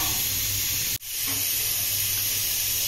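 Mustard seed tempering hisses and sizzles steadily in hot oil during rural Odia cooking of ash gourd in mustard gravy, with one sharp break in the sound partway through, close and alone without talk.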